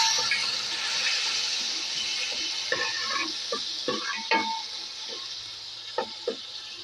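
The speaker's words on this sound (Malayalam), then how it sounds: "നമുക്കിത് കുറച്ച് പാല് ഒഴിച്ച് അഴച്ചെടുക്കാം" Coconut milk poured into a fish chilli curry in a pan and stirred: a gentle liquid pour and bubbling, then a few soft scrapes and knocks from the spoon, close and moderately quiet.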